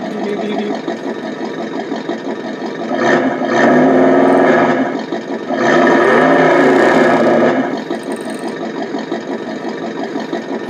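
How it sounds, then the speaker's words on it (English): A vibration motor inside a Tamiya F350 RC truck hums steadily, with a continuous buzzing drone that swells louder in two bursts and then settles back to a constant idle-like whir. "I have a vibration motor in, just because I love this vibrating"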